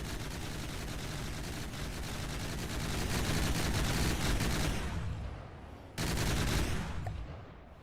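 A ship's heavy gun fires in the naval game From the Depths, a loud, dense roar of blasts rolling on for several seconds, easing off, then one more sharp burst before fading.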